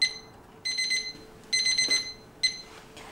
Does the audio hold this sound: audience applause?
no